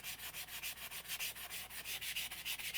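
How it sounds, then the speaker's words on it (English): A melamine sponge is rubbed gently back and forth across the dirty pins of an NES game cartridge, making a soft, close scrubbing hiss in a steady rapid rhythm of about five strokes per second. "just going to go across these pins pretty gently at first and see if it can get this gunk off"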